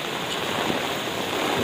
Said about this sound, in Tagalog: Alakas ng alon.